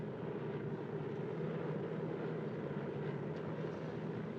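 DC-3 propeller airliner engines droning steadily in flight, a constant loud low rumble with no pauses.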